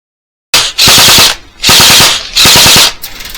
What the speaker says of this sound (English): Yeah, LMG middle building on the right side!